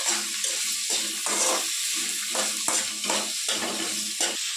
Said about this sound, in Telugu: ఇది కట్ చేసి పెట్టుకున్న ఆనియన్ కూడా వేసి ఫ్రై చేసుకుందాం. ఇలా బాగా ఫ్రై చేసుకుందాం.